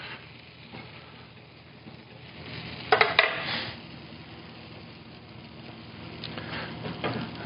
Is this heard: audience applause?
no